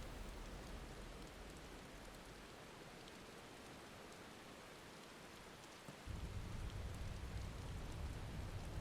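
Steady, heavy rain falls in the video game Final Fantasy XVI, a dense continuous hiss that grows louder and fuller at about six seconds and carries on without any voices.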